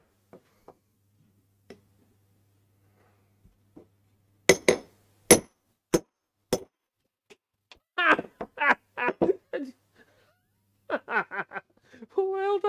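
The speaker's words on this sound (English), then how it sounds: "Bolster. The bolster, that'll do the job. And a big hammer." A big hammer striking a bolster chisel, several sharp ringing metallic blows in quick succession, followed by a person talking and a few softer knocks.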